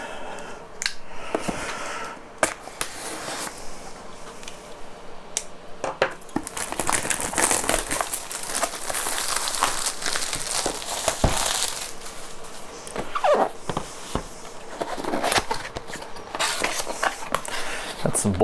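Plastic wrap is peeled from a Radiomaster TX16s RC transmitter, giving near, continuous crinkling and rustling with scattered sharp crackles and handling bumps.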